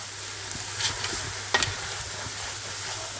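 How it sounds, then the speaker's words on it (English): A spoon stirs salt into a cooking pot of spiced samosa filling over a steady hiss of frying, with a few soft scrapes and clinks up close and no voices. "Gonna put 2 tablespoons of salt, give it a stir."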